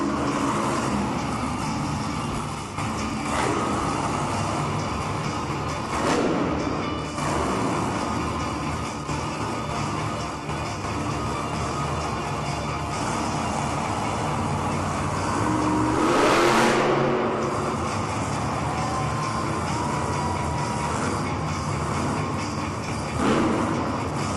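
A monster truck's engine roars and revs through a two-wheel skills challenge in an arena, a loud continuous drone with surges and one sharp burst partway through.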